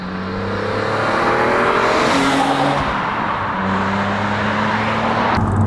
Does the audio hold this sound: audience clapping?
no